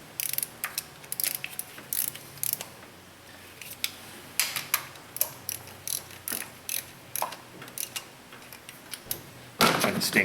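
Hand ratchet clicking in short repeated bursts while tightening the lower intake manifold bolts on a Dodge Caravan / Chrysler Town & Country, close and crisp with pauses between strokes.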